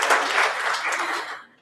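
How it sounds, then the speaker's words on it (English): An audience applauds a judge at a youth poetry slam bout, a steady wash of clapping from many hands that holds for over a second and then fades out. "Let's applaud him."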